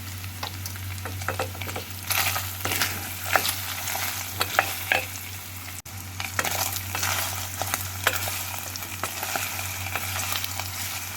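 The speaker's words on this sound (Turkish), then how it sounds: "Salça iyice kavrulsun." Tomato paste sizzles and fries in a pan while being stirred, a steady close sizzle with repeated scraping and clacking strokes of a utensil, a brief break near the middle.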